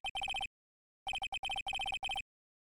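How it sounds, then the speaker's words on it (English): A cell phone in the Ace Attorney: Trials and Tribulations video game rings in two quick bursts of rapid electronic beeping, separated by a short silence, crisp and close with no other sound. "At around 10:30, I received a call on my cell phone."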